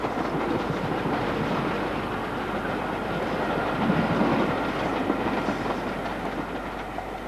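An intercity train approaches Blea Moor on the Settle to Carlisle line near the Ribblehead Viaduct, with a loud, continuous rumble and a rhythmic clickety-clack of wheels on rail, swelling slightly midway, with no talking.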